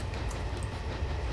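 A steam train runs on the Talyllyn Railway in Train Simulator 2020, giving a continuous broad rumble and rattle of moving rolling stock, faint and steady throughout.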